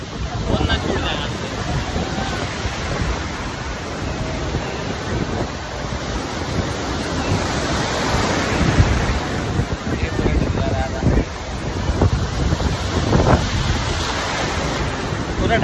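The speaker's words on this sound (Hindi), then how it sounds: "देखिए बड़ा वाला लहरा आ रहा" Big sea waves surge and wash in at Puri beach, a loud broadband roar rising and falling over several swells with heavy wind buffeting on the microphone, recorded close up from within the surf.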